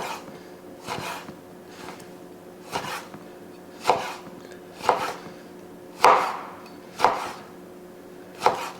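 Knife cutting fine slices of food on a board, about eight separate firm chops spaced roughly a second apart, close and clear with no talking.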